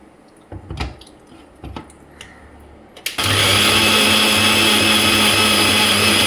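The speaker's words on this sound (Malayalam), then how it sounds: "പഴം നല്ല പോലെ അരച്ചു" Mixer grinder starts up after a few faint clicks and knocks, then whirs steadily and loudly while blending ripe bananas (nendran plantain), a harsh continuous motor roar that fills the rest of the clip.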